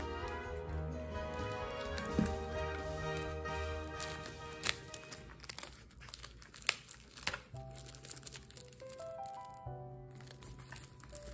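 Plastic shrink wrap crinkles and crackles as it is peeled off a manga special-edition box set, in soft, irregular bursts over faint background music.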